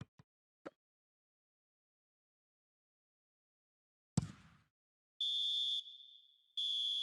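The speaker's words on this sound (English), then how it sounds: "Added time is up, and there goes the whistle." A referee's whistle ends a football match in added time, two sustained shrill blasts heard alone after a few faint knocks and a brief crowd-like burst.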